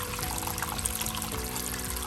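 Rainwater leaks into a crawlspace beneath a garage sink, a steady close trickling and pouring with a continuous splashing texture and no talking over it.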